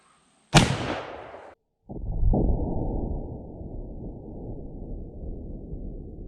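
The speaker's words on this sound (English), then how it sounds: "I'm gonna shoot across the chronograph and into the ballistic material" A single loud, close gunshot from a 50-110 Winchester rifle firing a 450 grain annealed copper bullet, a sharp crack that decays over about a second, followed after a short gap by a long, rumbling echo or low wash.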